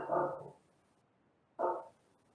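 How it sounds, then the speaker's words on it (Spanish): A dog barks twice, about a second and a half apart, heard somewhat faintly in an otherwise quiet room during a class. "era un perro que estaba ladrando"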